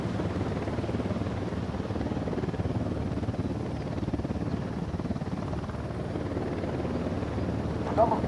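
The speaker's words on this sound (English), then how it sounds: "Chopper incoming." A helicopter in the video game Ghost Recon Wildlands gives off a steady, loud rotor drone that holds evenly throughout, a constant thrumming wash with no pauses.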